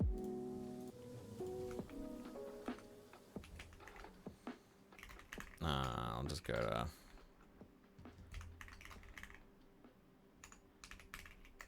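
Rapid clicking keystrokes come from a failing computer keyboard, close and crisp, with a brief flurry of louder tapping midway; someone speaks quietly over parts of the typing.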